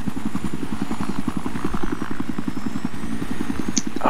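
A helicopter in the video game Battlefield 3 with fast, rhythmic rotor chopping over an engine drone, loud and close, with a brief high blip near the end.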